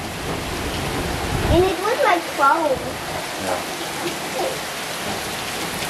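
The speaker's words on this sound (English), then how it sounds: "Not phone, it's the rain." Heavy rain driven by gusting wind in Silivri, Turkey, roars as a steady, loud wash of noise. A person talks briefly over it.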